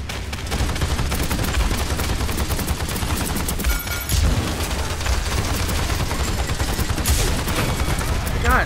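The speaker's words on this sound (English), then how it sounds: "Bringing out the big gun!" Heavy gunfire from a big gun in the Paladins shooter game pounds continuously, dense and loud bursts layered over constant battle noise for the whole stretch, with a brief dip in the middle.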